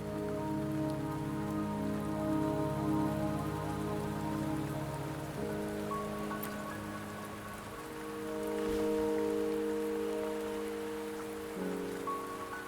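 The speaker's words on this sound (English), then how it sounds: "Don't worry, the rain won't last much longer." Steady rain falls in the video game Wuthering Waves, a dense, even patter of drops on surfaces that swells and eases slightly, with low tonal music running underneath and no voices.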